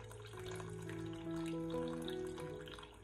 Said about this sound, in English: Pour only the clear top of the sauce into the soup broth